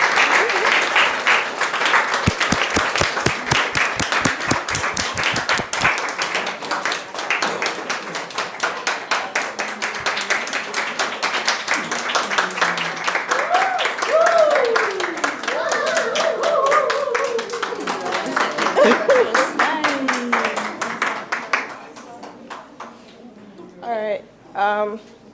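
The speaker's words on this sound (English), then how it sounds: "Let's clap our hands and welcome Nora." Audience at a community day applauds to welcome a speaker, dense sustained clapping filling the room for about twenty seconds with voices talking over it, then the applause thins and fades out.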